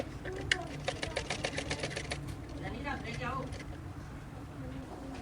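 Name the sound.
sewing machine stitching a kameez neck strip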